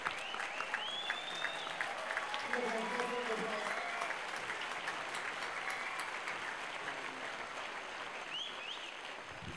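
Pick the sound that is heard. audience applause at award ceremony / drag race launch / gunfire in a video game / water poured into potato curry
audience applause at award ceremony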